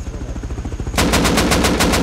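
Gunfire in the game Rust, with a rapid burst of automatic shots cracking in quick succession after a lower rhythmic rumble, loud and close.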